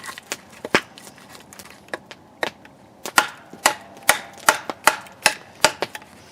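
Sharp, sparse knocks of an Esee 6 knife blade striking hard Osage orange wood, irregular at first, then settling into a steady chopping rhythm, close and crisp.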